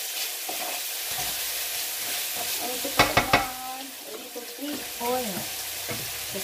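Tuna and spinach stirred in an oily frying pan, a steady sizzle with scraping spatula strokes and a few sharp clatters midway, brief voices murmuring in the background.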